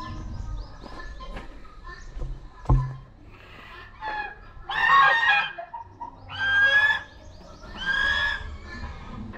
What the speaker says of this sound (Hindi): तो अभी हम लोग आए यहाँ के पक्षीघर, यहाँ पे जो भी छोटे मोटे पंछी वो रखे गए